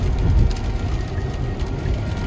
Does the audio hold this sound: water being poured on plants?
no